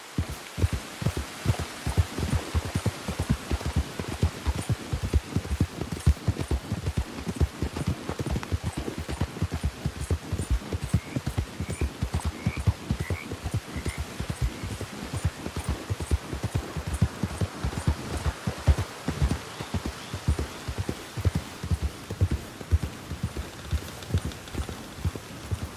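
Horse hooves galloping in Red Dead Redemption 2: a steady, driving rhythm of dull thuds runs unbroken for the whole stretch, close and even, with faint tack jingles above it.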